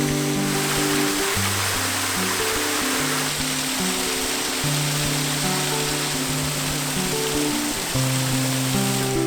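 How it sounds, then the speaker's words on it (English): A waterfall cascade in the Brecon Beacons roars steadily and loudly, a dense unbroken rush of water close by, with a faint low hum running beneath it and no voices. "I can hear that there might be another waterfall behind me"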